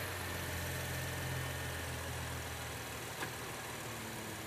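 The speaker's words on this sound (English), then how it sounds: "let's go ahead and fire this engine up and look at injector number two" A gasoline direct-injection car engine runs at a steady idle in a repair shop, a constant loud hum with a mechanical ticking texture and no talking.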